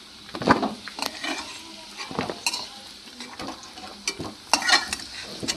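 Potatoes fry in a pan with a soft sizzle under repeated stirring and scraping, sharp clinks of utensil against the pan breaking through at irregular intervals.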